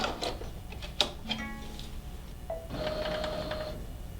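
A computerized embroidery machine stitches a tack-down pass on jelly vinyl in the hoop, giving a quiet run of mechanical whirring and clicking with a steady motor hum toward the end.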